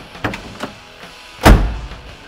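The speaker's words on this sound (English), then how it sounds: "I want to close this door again for you" Door of a 1970 Chevrolet Chevelle SS454 LS6 closing; a few light clicks and rattles lead into one solid, close thud.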